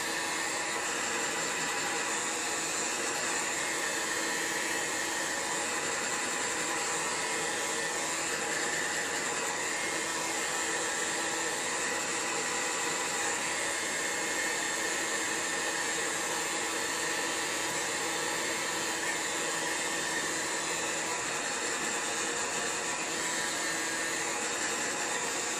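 A heat gun or hair dryer warms a decal on Cliff Keen adult wrestling headgear, blowing a constant, loud, broadband whoosh that stays unchanged for the whole stretch.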